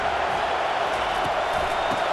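A steady, dense roar of a stadium crowd cheering at a College Football 25 video game match, continuous and even in level, with faint thumps beneath it.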